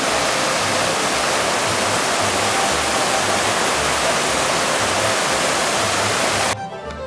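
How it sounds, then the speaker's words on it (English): A waterfall on a creek trail in Pisgah National Forest gives a steady, loud, broadband rushing roar close by, which drops away abruptly near the end. "Waterfall on the creek trail."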